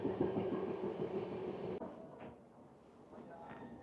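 Shantiniketan Express passenger train running on the tracks between junction stations, a loud steady rumble with rhythmic wheel clatter in the first half that drops abruptly to a quieter rolling hum.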